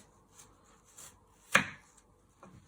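A knife slices through an apple on a board while apple crumble is being prepared: a few soft, close scrapes and one sharper cut, with quiet pauses between them.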